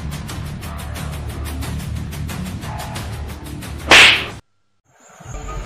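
A sharp, loud slap struck once in a tense confrontation scene from a Chhattisgarhi film, cutting through background music and ambience before a brief silence.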